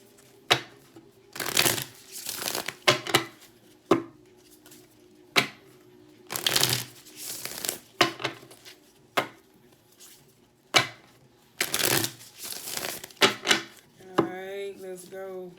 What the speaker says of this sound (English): Let's do the shuffling.